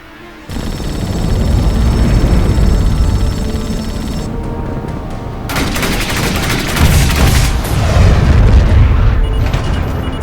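A ship's point-defense cannon volley in The Expanse video game: loud, dense bursts of rapid gunfire and booming blasts that build over several seconds and swell again near the end, with no talking.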